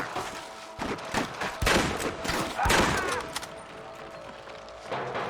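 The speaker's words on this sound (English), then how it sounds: "I can hear more gunshots." Gunfire in the 2010 video game Red Dead Redemption, a fast fusillade of overlapping shots and heavy thumps that builds to a loud, dense burst in the middle and then thins out, with no talking.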